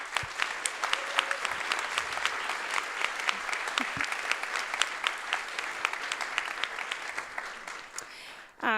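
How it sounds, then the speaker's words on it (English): An audience at a summer startup demo day gives a round of applause lasting about nine seconds. Individual handclaps ring out crisply and fairly close, holding a steady moderate level with no talking over them. "I wanted a round of applause for Jonathan."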